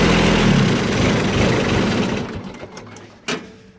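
Repowered diesel engine on a Cub Lo-Boy 154 tractor runs steadily nearby, loud and rough at first, then easing down over the last seconds, with a brief sharp knock near the end.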